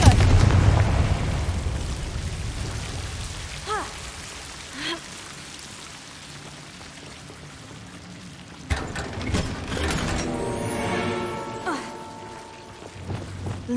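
A blasting spell goes off in Hogwarts Legacy, a sudden burst near the nine-second mark that spreads into a broad crackling rumble and ringing spell effects. Game music and ambience play underneath, and a few softer magical whooshes come earlier.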